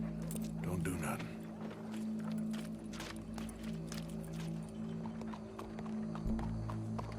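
Horse hooves clip-clop in Red Dead Redemption 2, a walking rhythm of repeated hoofbeats at moderate distance, running under steady game hum and ongoing talk.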